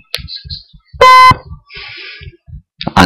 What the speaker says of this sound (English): the battery in the laptop is on slightly low at the minute, that's what the beeping is